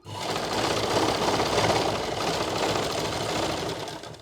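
A sewing machine stitches a salwar waistband (nefa) in one continuous run, with a dense, rapid needle chatter and motor whir, close up and without speech.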